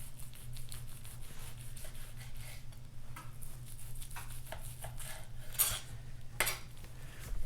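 A knife carves a prime rib roast, giving soft scattered scrapes and light clicks of metal against a board or platter over a low, faint background hum.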